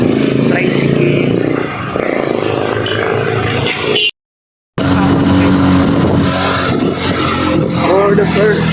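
A motorized tricycle passes close by on a street, its engine drone loud and steady with a brief cut of silence midway, while people talk nearby.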